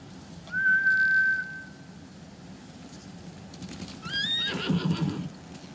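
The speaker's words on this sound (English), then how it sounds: "Bastards scared off the horses." Horses in the Ghost of Tsushima video game whinny loudly, then a second burst of neighing mixes with hoofbeats as the animals gallop off, with no speech.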